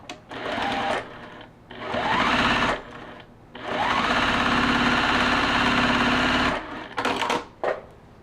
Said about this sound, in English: And then we're going to sew on this side on that one.